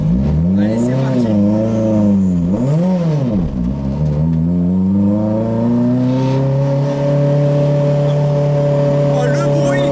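A Renault 5 Turbo engine revs loudly, rising and falling through several throttle blips before settling into a sustained high drone.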